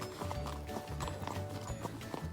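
A horse walks along on a ride in Washington state, its hooves clip-clopping in a steady, even rhythm close by, with faint background sound and no talking.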